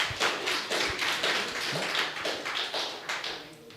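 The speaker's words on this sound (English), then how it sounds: "Let's give a hand clap." An audience claps by hand after a thesis defense presentation, a short burst of scattered taps lasting a few seconds that tapers off toward the end, fairly faint.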